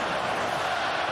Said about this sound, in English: Crowd again trying to raise the expectations and the spirits